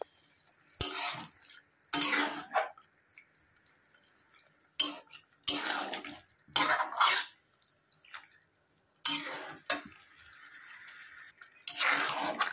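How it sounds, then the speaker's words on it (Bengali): Chicken marinated in spices being stir-fried in a pan for chicken lemon, with repeated loud bursts of scraping and stirring at irregular intervals and quieter moments between them. "এখন আমি মাংসটা কষিয়ে নিচ্ছি।"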